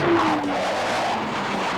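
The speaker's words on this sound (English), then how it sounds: "Listen to the sound of those General Electric engines." Navy jet aircraft with General Electric engines flying a close formation pass, a loud continuous roar with a whining tone that fades slightly, heard from the ground.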